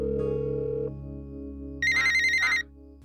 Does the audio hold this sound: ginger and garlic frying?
no